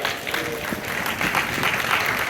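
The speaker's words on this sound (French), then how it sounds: "On va applaudir le Seigneur puissamment." A church congregation claps for the Lord during a French-language sermon, steady dense applause filling the space at moderate level without a break.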